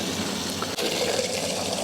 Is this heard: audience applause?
no